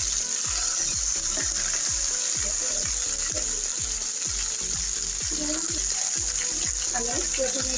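Okra frying lightly in soybean oil in a pan, a steady bright sizzle with a regular rhythmic scraping of a spatula stirring, close and continuous.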